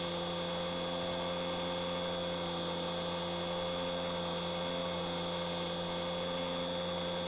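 A wood lathe turns a large ash bowl while a tool cuts in for a mortise, giving a steady droning hum with strong resonant tones. It holds constant and even throughout, with no talk.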